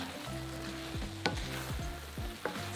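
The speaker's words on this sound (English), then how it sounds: "Stir everything together, then add in the remaining stock." Leftover turkey and rice are stirred in a sizzling pan, with steady frying crackle under a few distinct scraping strokes of a spoon against the pan, close and fairly quiet, with no talking.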